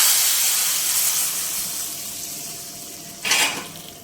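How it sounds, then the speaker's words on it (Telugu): Moong dal pulusu cooking in a pot, a soft steady sizzle that fades gradually, then a sudden louder burst of hissing spatter as the hot tempering hits the dal near the end. "ఇప్పుడు తాలింపు వేసుకుందాం ఇందులోకి."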